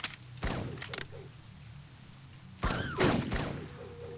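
Gunfire in the Blade Runner point-and-click video game comes in two short bursts of sharp cracks and thuds, the second louder, separated by a quieter stretch of game ambience.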